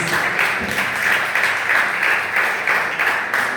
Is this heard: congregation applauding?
yes